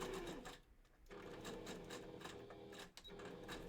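A sewing machine stitches a fursuit bandanna at a slow pace, its steady close whir running nearly continuously with brief dips and pauses as the thread catches.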